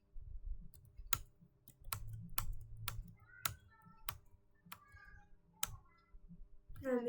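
Sparse, spaced keystrokes on a computer keyboard ring out as sharp individual clicks, ending with a press of the Enter key, while a quiet voice murmurs briefly under the tapping.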